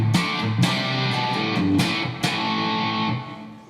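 Distorted electric guitar played through a Marshall Code amp on its 1960X 4x12 greenback cabinet preset: a short riff of sharp, chopped chords with crunchy gain, loud and alone.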